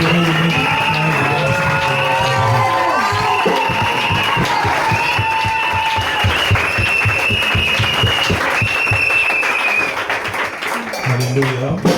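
A church congregation gives steady, loud applause with cheering, a thick wash of clapping that lasts throughout and eases slightly near the end, while a voice and music sound underneath.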